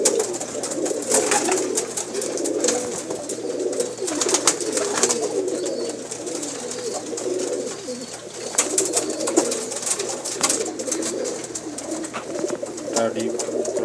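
Pigeons in a loft coo continuously, soft rolling throaty calls layered close together with rustling and wing movement, while someone talks over them throughout.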